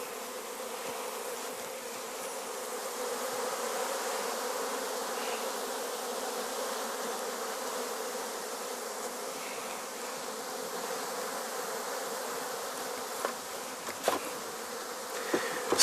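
Honey bees swarm around an open hive colony, a dense, steady buzzing drone that fills the scene, with a few brief louder knocks near the end.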